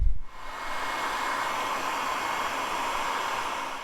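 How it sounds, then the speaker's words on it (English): Heat gun blowing steadily to shrink tubing over soldered wire connections on an amplifier harness for a Toyota FJ Cruiser, a continuous loud airy whoosh with a brief dip at the start, no talking. "we're going to move our heat shrink up and over our connections and shrink these tubes down with a heat gun"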